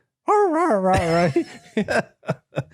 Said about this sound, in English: It's the world's first duck calling dog.